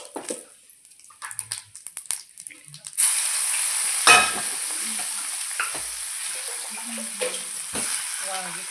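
Cumin seeds hit hot oil for stuffed brinjal masala and burst into a loud, steady sizzle that follows quieter clinks and scrapes, with a few stirring knocks over the frying.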